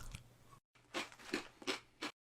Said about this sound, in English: Grab your favorite corn nuts and let's get to crunching.